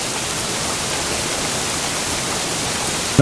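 A waterfall in the video game Black Myth: Wukong roars as a loud, steady, broadband rush of falling water that fills the whole moment, with no voices over it.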